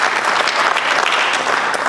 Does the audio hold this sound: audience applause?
yes